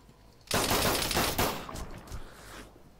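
A gun fired in the military shooter Arma 3: a sudden loud, sharp report after a quiet moment, followed by rolling echoes and rattling tails that fade over two seconds.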